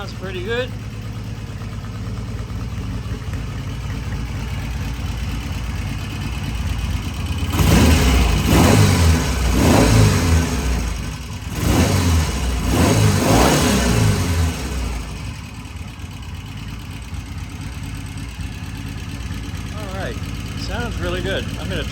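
Close by, a vintage British motorcycle engine idles, then revs hard in a few bursts through the middle before settling back to a steady idle.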